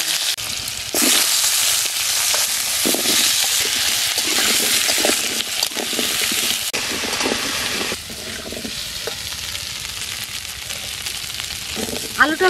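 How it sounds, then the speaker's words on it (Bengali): Potatoes with cumin fry in hot oil in a wok, giving a loud, close, steady sizzle that runs throughout, with light scraping and clinks of stirring and no talking. "আলুটা ভাজা হয়ে গেছে"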